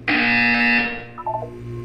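A loud, harsh electronic buzzer from Portal 2 blares for under a second, followed by a short descending series of game-style tones.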